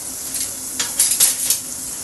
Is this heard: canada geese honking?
no